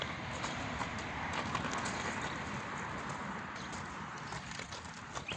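A horse is walked slowly back and forth at a sale in hot weather, its hooves clip-clopping in a steady, fairly close rhythm over a constant broadband outdoor background, with no talk.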